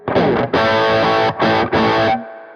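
Overdriven electric guitar through an amp's overdrive channel, played in three loud, dense bursts with short gaps, ending in a sustained ringing chord that fades away.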